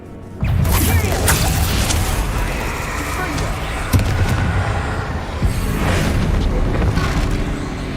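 A Bombarda explosion spell cast in a Harry Potter video game booms loudly and continuously, with crashing blasts and rumbling layered over a steady roar and a few sharp impacts.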